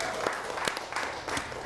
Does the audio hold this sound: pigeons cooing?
no